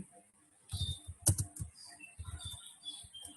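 Quiet typing on a computer keyboard during a lecture on plotting software, with a short irregular run of soft key clicks and one sharper tap, fairly close and alone with no talking over it.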